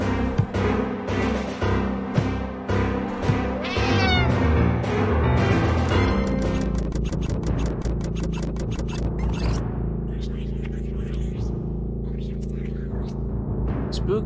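A cat meows in the Friday the 13th: Killer Puzzle video game, heard over a dense, steady game music score with busy rhythmic hits and no clear separate voice.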